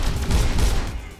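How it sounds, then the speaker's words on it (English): Rapid bursts of semi-automatic gunfire in the sci-fi shooter Overload, the weapon firing at its fastest rate in a dense, continuous volley of punchy shots with low booming weight. "Basically, you're seeing its fastest fire rate here."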